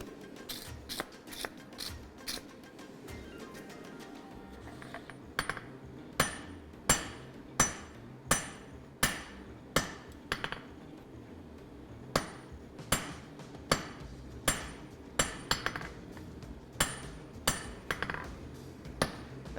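Sharp, ringing hammer blows on hot steel over an anvil while forging a cross peen hammer head, struck singly in uneven runs with short pauses between groups, close and loud.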